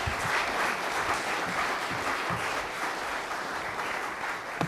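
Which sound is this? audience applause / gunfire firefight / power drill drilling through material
audience applause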